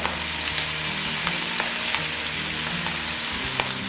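Milkfish fries in a pan, country style, with a loud continuous sizzle and scattered sharp crackles and pops of hot oil, close up and without any voices.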